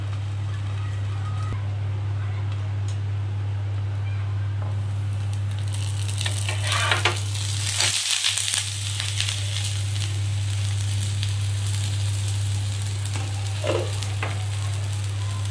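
A paratha, or gola roti, fries in a pan with the heat turned up to crisp it. A steady sizzle sits over a constant low hum, broken by brief scraping and crackling bursts partway through.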